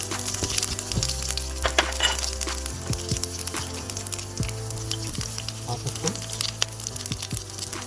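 Green chillies and garlic crackle in a hot pan, producing a close, continuous sizzle broken by light metallic clinks and stirring scrapes, with no voices.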